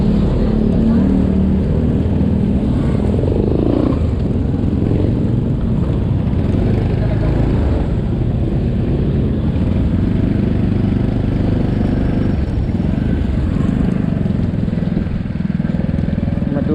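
A motorcycle ride on a muddy road, with a continuous loud engine drone and wind rumble that hold steady throughout, while someone talks over it.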